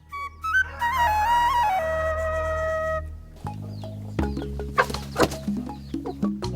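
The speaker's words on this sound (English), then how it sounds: "First up, George's chickens." Chickens cluck and a rooster crows nearby, loud and layered, the calls rising and falling over several seconds.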